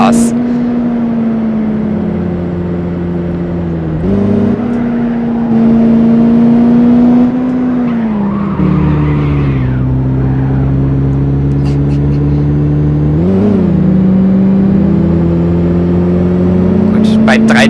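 VW Golf II GTI engine in the driving game City Car Driving, revving and shifting: a loud, steady engine drone that rises and falls in pitch across several gear changes, with someone talking over it.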